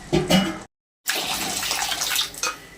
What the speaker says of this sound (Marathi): थोडंसं पाणी ॲड केलेलं आहे मी.